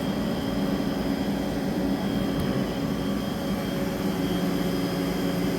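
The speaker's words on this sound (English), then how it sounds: "And then increasing the spindle." Steady loud whine and hum of a 2012 Haas ST20 CNC lathe spindle running, a continuous mechanical drone that holds steady without clear pitch change.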